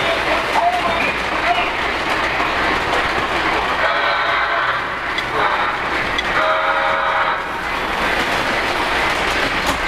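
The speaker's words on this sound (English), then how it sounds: "Here comes the Elf work train around on the upper level." A small model train, a Polar Express Elf work train, rattles continuously along its track on an upper level, a steady clattering hum with faint squeals, heard close up.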